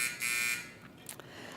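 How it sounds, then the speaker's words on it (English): A debate timer buzzer gives a loud, steady electronic buzz lasting about half a second, followed by a few fainter clicks and rustles in a quiet room. "The sound that keeps us in line is the buzzer."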